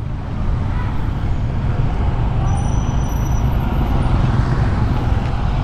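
Continuous low road traffic rumble surrounds a motorcyclist riding through busy streets after a typhoon, with engine drone and passing vehicles blending into a steady, loud roar and a faint high brake squeal partway through.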